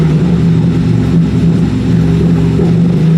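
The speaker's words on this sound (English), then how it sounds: "Bro, it's definitely misfiring" A car engine that is misfiring idles loudly and continuously, a rough low drone with an uneven, stumbling pulse running throughout with no voices.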